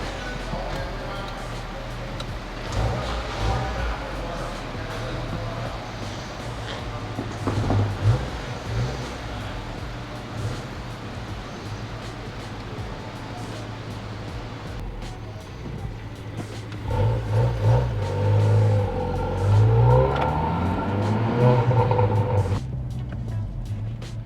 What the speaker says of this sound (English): It's definitely a little deeper than a stock exhaust